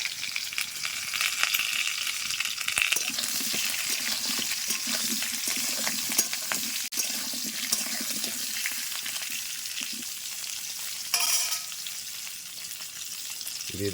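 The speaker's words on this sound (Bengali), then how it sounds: "তেলটা গরম হয়ে গেছে, এবার দিয়ে দেবো তেজপাতা, 5 ফোড়ন" Bay leaf, five-spice seeds and green chilli hitting hot oil for a raw mango chutney, a steady close sizzle and crackle that runs throughout with occasional stirring clinks.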